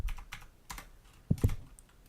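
Computer keyboard typing at a terminal, a few scattered soft key clicks followed by a sharper pair of louder keystrokes near the end, close and alone.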